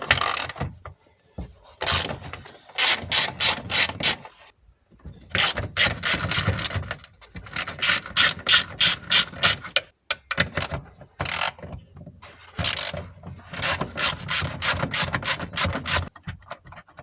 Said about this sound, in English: Take out these 3 bolts.